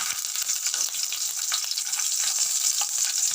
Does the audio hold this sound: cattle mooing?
no